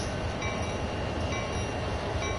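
In Train Sim World 2, a locomotive engine running in notch 2 drones steadily as it climbs a grade, a constant loud rumble with faint tonal whine and no pauses.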